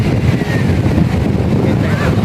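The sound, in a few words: strong wind on Byron Bay beach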